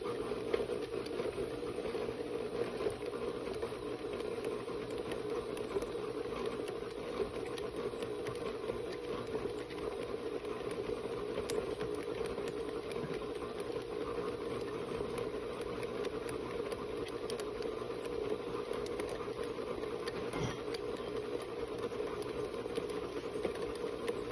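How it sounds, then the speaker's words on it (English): Snowball cookie batter being mixed, most likely with an electric mixer, giving a steady mechanical whir and hum that holds at an even level throughout with occasional faint clicks. "I'm going to mix this a little longer."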